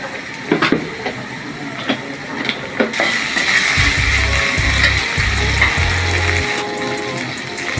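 Garlic paste and ginger paste hit hot oil in a frying pan for a fish-head curry, giving a loud, steady sizzle and crackle with a few clanks of utensils at the start.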